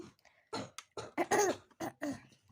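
Several sharp, raspy coughs in quick succession, close and fairly loud, with short pauses between bursts.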